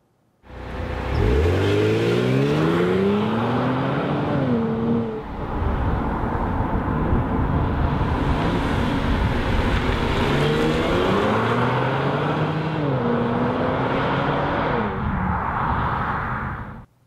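A Kia Stinger car accelerates hard twice, its engine note climbing loudly and steadily through each pull, with no talk.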